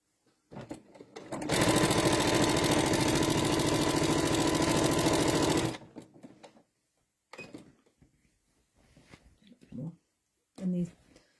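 A sewing machine stitches down quilt binding near a corner in one steady, loud run of rapid needle strokes lasting about four seconds, with a voice speaking briefly before and after.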